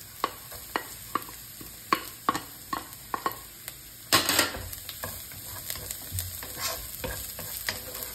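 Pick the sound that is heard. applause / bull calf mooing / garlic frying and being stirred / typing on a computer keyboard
garlic frying and being stirred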